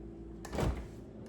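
A door opens in a kitchen, one short, moderately loud thump with a brief rattle, heard alone against a quiet room.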